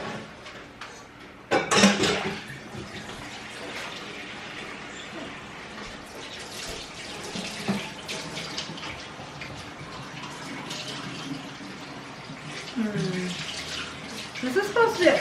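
Tap water runs into a sink to soak a pan used for baking pizzas. The gush is steady and moderately quiet, with a few clanks and soft voices mixed in.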